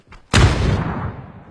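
A cannon fires in a video game: a brief faint pop, then a sudden loud booming blast that rolls and decays over about a second, alone without talk.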